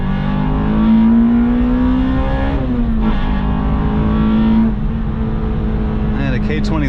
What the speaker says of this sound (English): Let's give it some more VTEC here